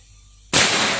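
A single sharp shot from a Mouser 32 air rifle cracks out after a moment of near silence, with a brief bright burst and short decay.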